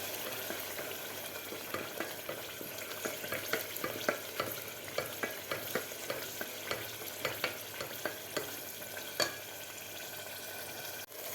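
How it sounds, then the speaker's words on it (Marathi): Masala spices are sautéed over medium heat in a pan for Kolhapuri misal, with a soft continuous sizzle and regular scraping stirs of a spoon, quiet and close, with no voices. "आपल्याला मिडियम गॅसवर हे मसाला परतून घ्यायचा आहे"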